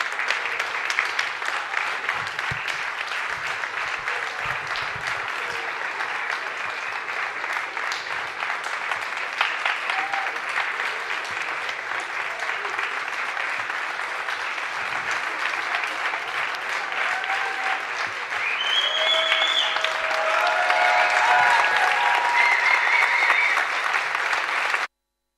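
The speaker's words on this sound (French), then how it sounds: "On les applaudit bien fort." Sustained, loud applause from an audience for the candidates at a science-communication thesis competition, a steady dense clapping lasting over twenty seconds that swells slightly near the end, with a few voices faintly audible.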